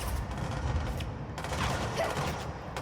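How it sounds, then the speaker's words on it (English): Enemy gunfire in Control: a rapid, continuous volley of shots with bursts of sharper cracks, dense low rumble underneath, moderately loud and fairly close, with no talking over it. "they are shooting me from over here and not behind anymore"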